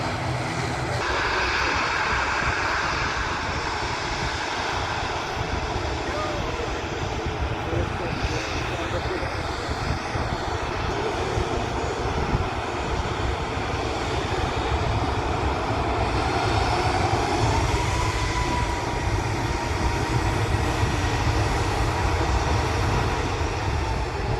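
An ATR 72 turboprop taxiing at Manchester Airport gives a loud, steady engine drone that holds throughout, with a voice faintly present beneath it.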